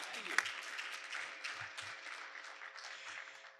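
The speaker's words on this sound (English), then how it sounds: "Y'all can clap." Scattered clapping from a small audience at a fireside chat session, fairly steady and moderate, fading slightly toward the end.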